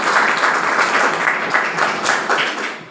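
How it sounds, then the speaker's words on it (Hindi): A seated crowd in a hall claps loudly after a health talk, a thick, continuous wash of applause that swells and slightly fades over a few seconds, with no voice over it. "जोरदार ताली बजाया"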